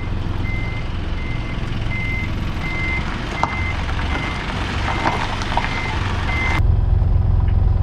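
A bus backs up at a stop in Japan. Its reversing alarm sounds a steady series of evenly spaced electronic beeps over a constant engine rumble, and the beeping stops abruptly near the end.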